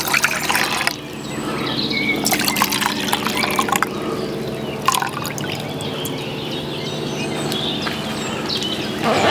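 Pickle brine poured into cups at a bushcraft campsite, splashing and trickling liquid in short pours with brief pauses between them, close and fairly loud, against outdoor background noise.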